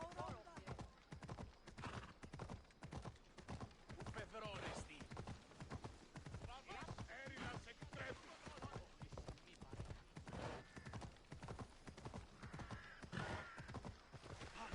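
A horse in Assassin's Creed Odyssey trots at a steady, even clip-clop, with close, loud hoofbeats running throughout. Game characters talk over it in places, and the horse gives a brief whinny.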